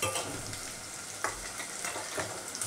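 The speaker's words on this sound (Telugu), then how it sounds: "కొంచెం ఆ పేస్ట్ కొంచెం పచ్చివాసన పోయేదాకా నూనెలో వేయించుకుందాం" Ginger garlic paste frying in hot oil with green chillies already in the pan, a steady close sizzle broken by a few scraping stirs.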